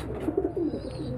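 A pigeon coos softly in a few low, throaty pulses while held in the hand for an oral syringe dose of coccidiosis medicine, close and fairly quiet.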